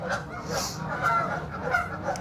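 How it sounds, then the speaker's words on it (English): Geese honking and squawking at a goose pond, several repeated nasal honks close by, with low background murmur. "To support the squawking geese."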